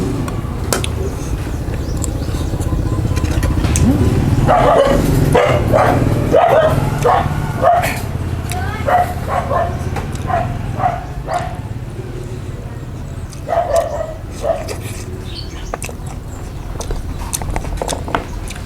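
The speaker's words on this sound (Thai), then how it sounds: "เห่าอไรฮะ" A dog barks repeatedly at a roadside Thai food shop, several short barks in bursts over busy background clatter and ambient noise.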